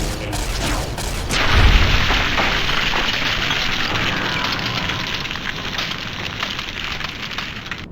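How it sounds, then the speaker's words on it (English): A grenade goes off in Fallout: New Vegas with one loud, deep boom, followed by a long crackling, hissing rumble that slowly fades. "Have a grenade. Well, those do explode a lot, huh?"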